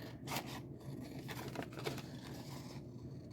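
Scissors trim the excess edge off a sheet of paper in careful, short snips, each cut a faint crisp scrape close by with light rustling between them.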